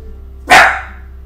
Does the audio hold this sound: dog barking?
yes